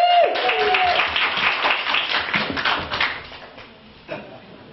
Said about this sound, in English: A massive round of applause for Flairz then.